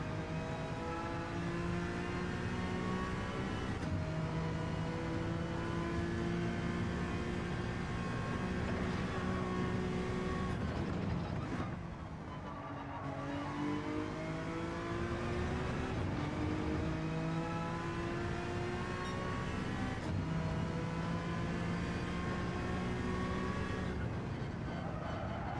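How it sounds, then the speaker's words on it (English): A Honda NSX engine in Gran Turismo 7 holds a steady, buzzing drone. Its pitch rises and falls in long sweeps as the engine revs, with a brief dip midway and no talking over it. "Feels like you rev this car out."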